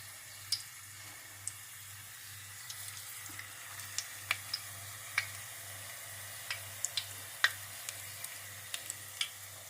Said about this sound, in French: Et on va faire cuire ça tranquillement. On va laisser dorer.